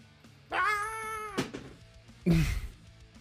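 A human voice imitates a swallow with a drawn-out, wavering high cry followed by a shorter squawk, close and fairly loud against a quiet background.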